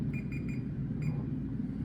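Kitchen timer going off for baking brownies, a run of short, evenly spaced electronic beeps over a low background hum, then a pause and a final beep, fairly quiet.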